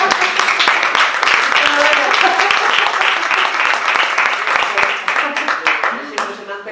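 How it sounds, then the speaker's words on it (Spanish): Sustained audience applause at a talk by an artist on her creative process, dense crisp clapping filling the room for several seconds with voices mixed in, thinning slightly toward the end. "Y te aplaudo."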